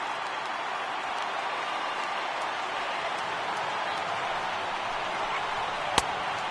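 Stadium crowd of over 39,000 in the baseball video game MLB The Show 18, a dense, steady roar of cheering and applause that holds at an even level throughout, with one sharp click near the end.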